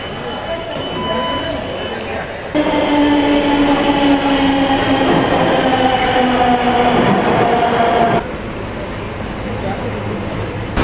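A Delhi metro train rumbles along with a steady whine and hum that swells louder midway, then drops back to a quieter interior drone.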